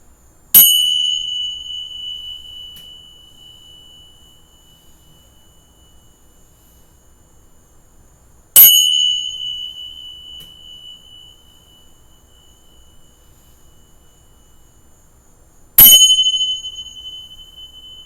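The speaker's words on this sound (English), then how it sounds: "use the bells to help clear your energy as well as this space" Three separate strikes of a ringing bell, used to clear energy in a space. Each is a sharp, bright ding left to fade into a long ring, spaced several seconds apart in otherwise silent air.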